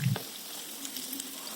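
Stuffed green chilli chops coated in batter sizzling in hot oil, a steady soft frying hiss throughout with a brief louder crackle at the start.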